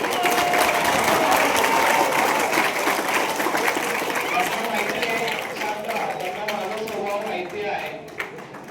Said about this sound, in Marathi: कोणाने माझ्यासाठी एवढ्या टाळ्या वाजवलेल्या असतील